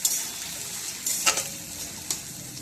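Chopped onions fry in hot oil in a pan after garlic, giving a steady, fairly quiet sizzle with a few brief scraping stir sounds and no talking.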